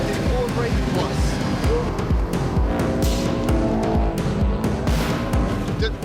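Subaru Impreza rally car being driven hard on a racing course, a loud continuous engine roar with rumbling and tire noise throughout.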